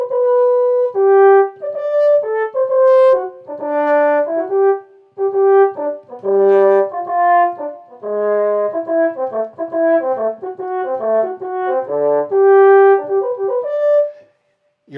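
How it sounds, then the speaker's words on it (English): A French horn plays a lively melodic line of short and sustained notes, clear and fairly loud, alone without voices and with brief pauses between phrases. "French horn, it's the timbre of a brass instrument and very particularly a French horn."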